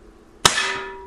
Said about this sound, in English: We're going to put 6 rounds in each target.